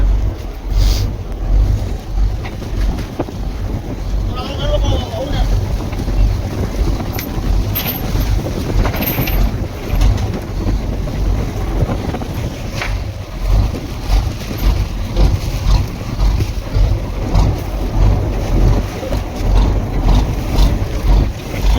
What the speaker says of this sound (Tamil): காற்றும் சரியான காற்றா இருக்குது.